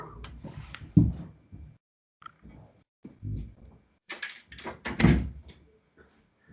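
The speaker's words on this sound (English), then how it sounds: "let me close the door." An indoor door is closed in a room during a lecture, giving several thumps and clunks of handling and latching, with a sharper bang around the middle.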